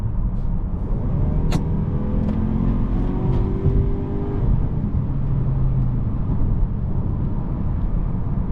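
A 2024 Mazda 3 sedan accelerates hard in sport mode, its engine note rising steadily through the revs over a constant road roar, heard from inside the car with no talking.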